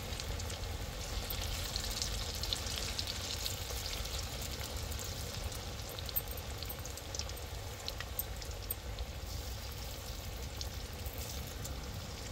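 Prawn pakoda deep-frying in hot oil, a dense, steady crackling sizzle with bubbling that continues evenly throughout at moderate volume, with no voices.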